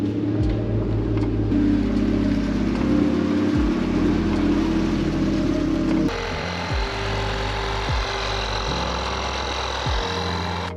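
A 1988 Honda CRX Si on the road, its engine droning steadily from inside the car, with repeated rises and drops in pitch as it revs through gear changes.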